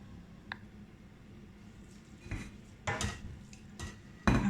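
Banga rice served from the pot onto dishes: soft scraping and clinks of a spoon against cookware, building to louder knocks near the end, with no talking.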